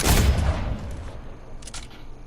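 A gray Flintlock fires at a built wall in a Fortnite-style shooting game, giving one loud close blast that fades out over a second or two, followed by a faint sharp crack.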